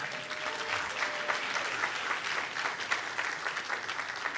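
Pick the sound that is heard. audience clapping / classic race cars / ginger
audience clapping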